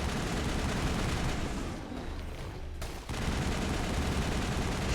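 Sniper rifle and other weapons fire in a Mass Effect firefight, with dense, loud overlapping shots filling the scene almost continuously and a brief lull before the gunfire resumes.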